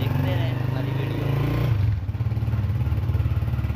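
A motorcycle engine drones steadily nearby as the bike rides off, its low rumble shifting partway through, with a person speaking over it.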